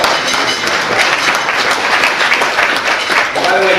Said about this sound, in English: And let's give Margie a round of applause.